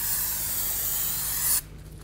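Brake parts cleaner sprays from an aerosol can onto a rear brake rotor of a 2008-13 Cadillac CTS, one steady close hiss lasting about a second and a half before stopping abruptly.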